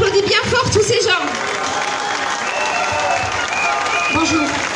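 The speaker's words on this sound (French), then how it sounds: "on applaudit bien fort tous ces gens" An outdoor rally crowd on a town hall square in Bayonne applauds loudly, steady clapping mixed with cheers while voices speak over it and a few tonal calls or whistles rise through the din.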